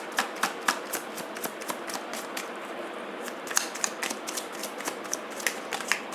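Tarot cards being shuffled, a quick, even patter of crisp card flicks and slaps repeating steadily for several seconds, near and fairly quiet, without talk.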